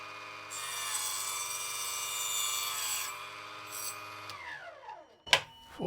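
A Proxxon KGS 80 saw cuts through PVC tubing with a sustained whining buzz, then the blade spins down and a sharp clack follows near the end.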